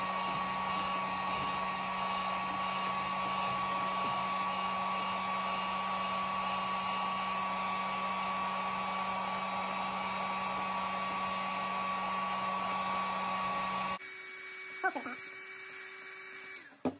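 A heat gun blows steadily at a plastic part in a workshop, a loud even whooshing hum that runs unbroken for about fourteen seconds, then cuts off, leaving faint rustles and clicks.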